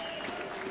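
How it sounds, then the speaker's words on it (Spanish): A basketball crowd in a Prefederal game between Independiente and El Biguá applauds a player leaving the court, a brief, even wash of distant clapping under steady arena noise. "Pablo Almendra, aplaudido por la gente de Biguá."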